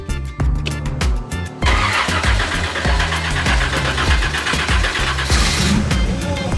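A Contemporary Cobra sports car engine cranks with rhythmic starter chugs, catches after about a second and a half, then runs loud and rough at a lumpy idle with uneven beats, close by.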